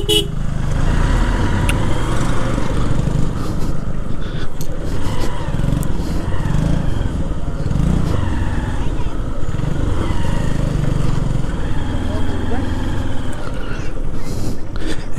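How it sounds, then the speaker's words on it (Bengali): A motorcycle climbs the steep road up Konglak Hill in Sajek Valley, its engine rumbling steadily and close throughout, with a horn tooting now and then and a voice talking over the ride. "বাইক তো উঠলো মোটামুটি, ইজিলি উঠে গেছে"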